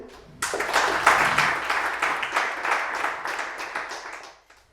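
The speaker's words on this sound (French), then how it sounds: "On les applaudit?" A small crowd at a web development bootcamp demo day in Bordeaux breaks into steady applause that runs for several seconds, then tapers off.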